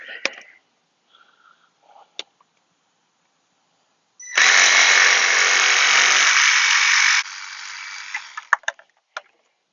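A power cutter slices a pipe to length for a frozen jacuzzi repair, one loud, steady buzzing burst of about three seconds, framed by scattered clicks and handling knocks before and after.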